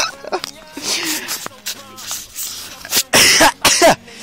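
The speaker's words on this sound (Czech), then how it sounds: "Tady můžete vidět, jak se Domino vysmrkává do trávy." An animal snorts and blows its nose into grass in a forest, with several sharp, breathy bursts clustered near the end, while a person talks quietly earlier.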